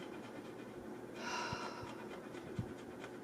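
A dog pants loudly and close by with steady, rhythmic breaths that swell briefly in the middle, heard alone without talk.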